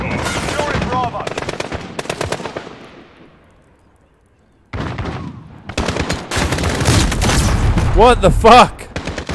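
Modern Warfare game gunfire crackles in rapid automatic bursts, loud and close, drops to near silence, then resumes in dense volleys, with a voice swearing over the shooting.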